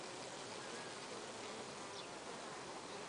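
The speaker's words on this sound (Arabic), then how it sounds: "النحل يقوم بعملية الفرفرة أو عملية الرفرفة" Steady dense buzz of honeybees fanning their wings inside a hive, a continuous close hum with no pauses and no voices.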